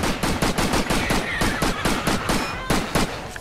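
Rapid pistol gunshots in the shooter game Dusk, a fast string of sharp cracks at a steady rhythm, loud and close with no pause between shots.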